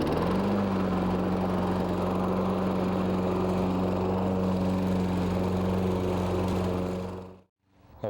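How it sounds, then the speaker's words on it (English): An electric start lawn mower starting and running, a loud steady engine drone close by that holds for about seven seconds before cutting out and briefly restarting. "And then this is an electric start mower."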